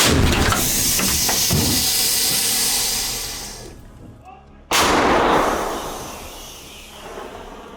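A 2S1 Gvozdika self-propelled howitzer fires in combat: a deep, booming blast followed by a long hissing rumble that fades, then a second loud boom with a trailing roar, close and powerful.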